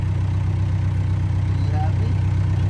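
A tractor engine idles steadily in the snow, giving a continuous low, even drone that holds at one level throughout.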